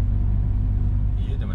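A car drives along a road from Surgut toward Noyabrsk, its steady low engine and tire rumble filling the cabin, loud and continuous from start to finish.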